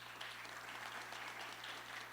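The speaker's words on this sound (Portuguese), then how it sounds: "Palmas para ele." Audience applause for Marco Aurélio at a memorial tribute gathering, a steady, quiet wash of many hands clapping at a distance, with a low constant hum underneath.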